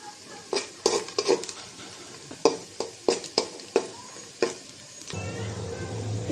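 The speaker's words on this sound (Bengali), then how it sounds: "ভেজে নেব দারচিনি আর এলাচ দিয়ে দিলাম তেজপাতা" Cinnamon, cardamom and bay leaf frying for a chicken biryani, heard as a run of sharp clinks and scrapes of a utensil against a pan, ending in a steady close sizzle.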